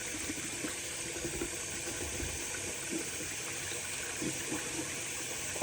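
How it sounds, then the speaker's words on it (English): Water running while a baby's hands are scrubbed, a steady faucet-like rush with soft irregular splashes and rubbing, moderately quiet and continuous, no voices. "Now I can scrub his hands"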